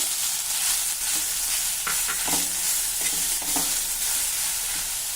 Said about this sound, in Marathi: हे नारळ आता अर्धा मिनिटासाठी जरा परतून घेऊ